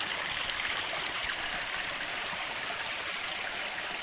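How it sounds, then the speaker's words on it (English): A woodland creek flows steadily with a continuous, even rush of water, close and unbroken throughout. "Here's our creek."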